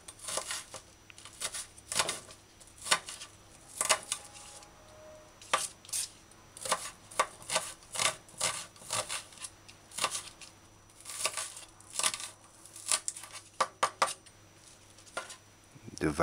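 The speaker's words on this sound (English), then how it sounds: "Dice or slice onion." A knife dices or slices onion on a board, making quiet, irregular crisp taps and clicks in short clusters throughout the kitchen scene.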